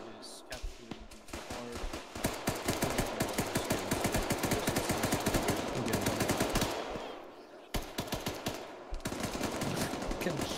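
Sustained automatic gunfire in the Antistasi video game, dense rapid bursts of shots crackling loudly for several seconds with a brief pause, then more fire; some voices mix in.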